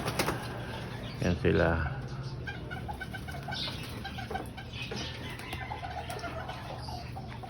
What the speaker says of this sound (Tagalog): itong mga naliligo na to, mga hen breeder natin to